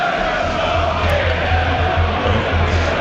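A football crowd at a National League South match between Torquay United and Bath City raises a sustained, loud chant across the ground, with a broad roar that carries steadily throughout.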